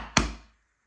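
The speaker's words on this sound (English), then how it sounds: "So if I clap" A single sharp hand clap in a room, one short loud crack with a brief decaying tail, alone.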